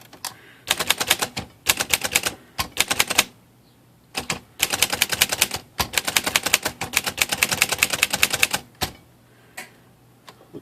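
Keys clacking on an Underwood Champion vintage manual typewriter, in fast bursts of sharp strikes separated by short pauses and occasional carriage sounds, close and loud.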